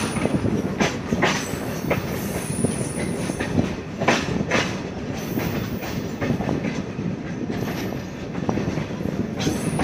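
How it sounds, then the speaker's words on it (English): A local train from Guantanamo to Holguin, hauled by a 1954 EMD G8 locomotive with former German Silberling cars, rumbles along with continuous close rail noise, rhythmic clickety-clack of wheels over joints and occasional high wheel squeals. "A local train from Guantanamo to Holguin is nearby Costa Rica with a G8 locomotive and former German Silberling cars."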